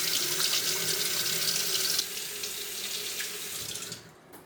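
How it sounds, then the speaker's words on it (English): Hands being washed under a steadily running kitchen tap, a loud close water stream that softens partway through and stops abruptly at the end. "Now I'm gonna wash my hands."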